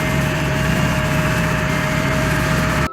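A tractor engine strains to pull a heavy truck out of mud: a loud, steady drone with a sustained high whine, running continuously without pause until it cuts off abruptly at the end.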